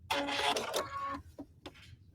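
A sewing machine stitches the edge of a felt hexagon candle mat in a short loud burst, then pauses and makes a couple of brief clicks as the work is turned.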